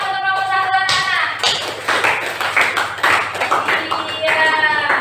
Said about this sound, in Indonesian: Kita kasih tepuk tangan untuk kelompok 1 anak-anak.